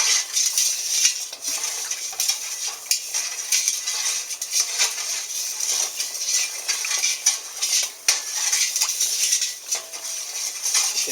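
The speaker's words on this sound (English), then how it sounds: "And stir that in. Make sure you stir it in." A spoon stirring sugar granules into tea in a bowl, giving a steady, close scraping and light clinking that runs continuously for the whole stretch with no talking.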